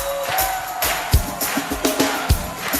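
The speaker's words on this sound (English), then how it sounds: "I mean, there's clapping." Rhythmic clapping within a mixtape recording being played back, a series of sharp hand claps at regular intervals over music with a sustained tonal line, moderately loud.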